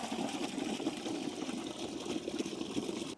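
Waste gushes steadily out of an emptied toilet cassette, a continuous close rushing pour with slight gurgling.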